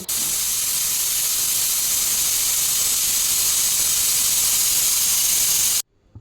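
A pressure cooker with its lid closed vents steam while cooking thick rice for pulao, giving a loud, steady hiss that runs for nearly six seconds before cutting off abruptly.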